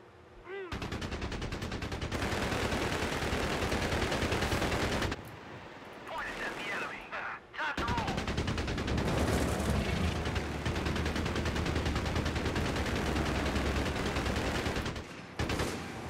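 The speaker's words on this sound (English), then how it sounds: "Quad 50 cal? Yes. Fire in the kraut mower!" Quad .50 caliber machine gun on a half-track firing in Company of Heroes 3, long sustained bursts of rapid heavy fire with two short pauses, loud and close amid battlefield noise.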